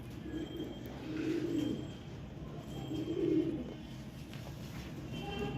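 Soft, low pigeon cooing in two or three rounded bursts, steady against a constant background hum, with no one speaking.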